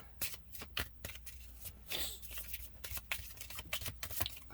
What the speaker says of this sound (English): So let me give this a good shuffle.